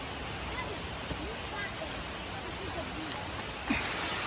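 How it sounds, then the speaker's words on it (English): Rain at a waterfall overlook in a park, a steady broadband hiss of falling rain and rushing water, continuous and even, with faint voices underneath. "So guys, it's really raining"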